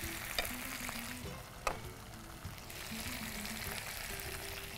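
Drumsticks sauté in a frying pan with a steady, close sizzle, broken by a few scrapes and knocks as they are stirred.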